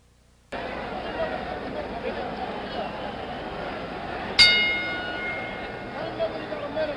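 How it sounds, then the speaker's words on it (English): A single ringing clang of a boxing ring bell at a George Foreman vs Jimmy Young bout, heard once partway through with a lingering metallic decay over steady arena crowd noise. "The bell for round 11"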